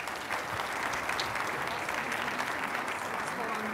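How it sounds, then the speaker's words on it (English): An audience at a Philadelphia investment conference applauds a panel of educational leaders, with steady, dense clapping filling the room throughout. "Please give them a round of applause."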